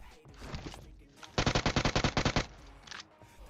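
A rapid burst of about a dozen evenly spaced automatic shots in the battle royale game PUBG Mobile, loud and close, with faint background game noise and a softer sound before and after.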